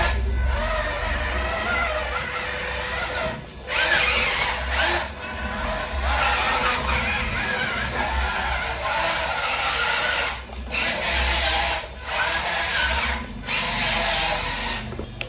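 An FMS Range Rover RC car motor whines at medium speed in steady, high-pitched bursts broken by short pauses, loud and close.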